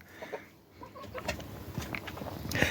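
Hens cluck in short, soft bursts around the nesting boxes where they sit to lay, with one broody hen among them. The calls are close but modest in volume over a low background rustle.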